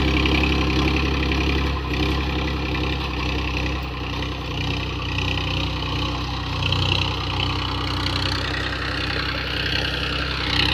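A Toofan tractor engine runs steadily at medium revs while working a field, a loud, continuous low rumble with a constant throb and no talk over it.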